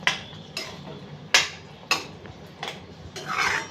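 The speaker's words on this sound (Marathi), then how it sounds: "आता ह्या स्टेजला आपण भेंडी जी फ्राय करून ठेवली आहे ती टाकणार आहोत आणि छान हलवून द्यायची आहे" A spoon clatters against a pan while fried okra is stirred into gravy, a series of sharp metallic scrapes and knocks at irregular intervals, close and moderately loud with no voices.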